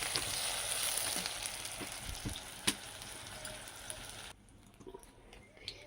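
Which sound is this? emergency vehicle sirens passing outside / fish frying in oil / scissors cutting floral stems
fish frying in oil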